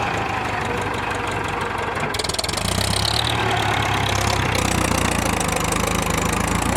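A farm tractor engine runs steadily nearby with a low, chugging idle and a slight shift in pitch partway through; no talking.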